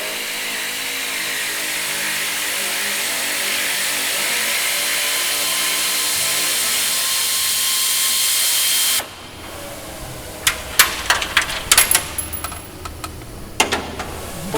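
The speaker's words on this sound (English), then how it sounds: "Oh yeah, the air ratchet." Air ratchet on bolts during restoration work on the Lancaster NX611 aircraft, a loud steady pneumatic hiss for about nine seconds, then sharp metallic clanks and clicks in the quieter stretch after it, no talk.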